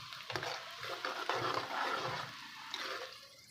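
Garlic, ginger and onion frying in ghee in a pan for moong dal: a steady, fairly quiet sizzle with occasional stirring scrapes, heard alone without talk.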